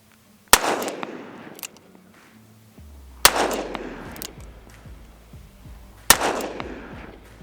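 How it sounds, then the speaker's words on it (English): Three sharp, loud shots from a Smith & Wesson 686 .357 Magnum revolver fired single action and one-handed, spaced a few seconds apart, each one with a ringing decay. "357 loaded up in the 686 now. We're going to do single-handed, single action, see how she feels"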